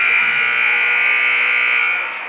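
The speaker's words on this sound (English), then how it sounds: "And there is the buzzer." A loud, steady electronic buzzer ends a girls' varsity high school basketball game, sounding continuously for about two seconds before it begins to fade.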